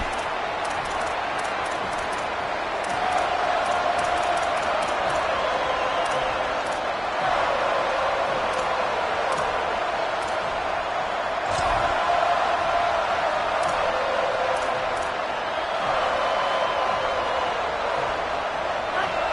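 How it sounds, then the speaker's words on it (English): Stadium crowd at a college football game at the start of the season, its roar a steady, dense wash of cheering that swells in places and continues the whole way through. "This crowd trying to show them what it's going to be like all day in this house."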